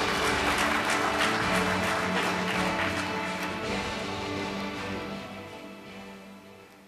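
Audience applause at a party meeting right after a vote result is announced, a dense loud burst of clapping from a crowd that holds steady and then gradually fades out.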